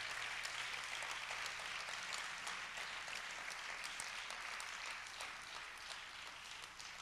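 Church congregation applauding during a Spanish-language service, a dense, even patter of many hands clapping that stays faint and distant throughout.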